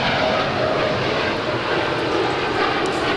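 A heavy airliner climbs away just after takeoff from runway 25 Right at LAX, a loud, steady broadband engine roar with no talk.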